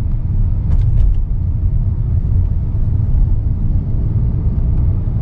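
Hyundai Creta 2020 with a DCT gearbox accelerating, heard as a loud, steady low engine drone and road rumble from inside the car, with a couple of faint clicks early on and no clear break between gears.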